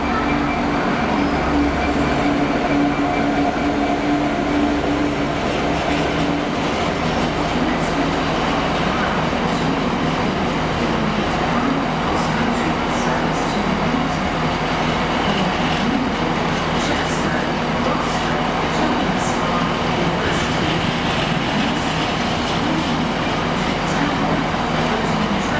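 A train of empty wagons rolls through Cardiff Central station, a steady loud rumble of wheels and rail noise lasting throughout, with a faint voice briefly audible.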